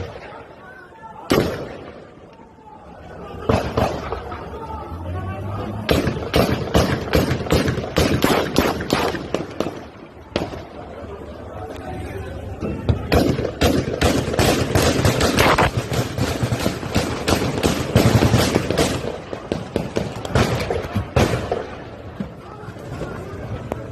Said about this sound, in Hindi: तो जैसा कि आपने फायरिंग की वीडियो देखी